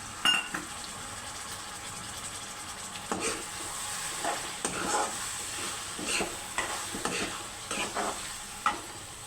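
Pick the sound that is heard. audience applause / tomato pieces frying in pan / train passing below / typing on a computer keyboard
tomato pieces frying in pan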